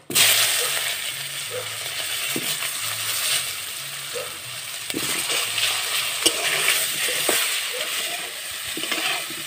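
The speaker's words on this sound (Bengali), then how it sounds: "এবার আমি ফুলকপিগুলো দিয়ে দেব" Cauliflower frying in oil with turmeric and salt, a steady bright sizzle with scattered clinks and scrapes of a utensil stirring in the pan, close and continuous throughout.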